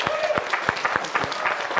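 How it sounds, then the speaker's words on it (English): Congregation applause at a Sunday service: a short burst of scattered hand claps, fairly close and steady, with some murmuring voices mixed in. "Let's give them all a round of applause."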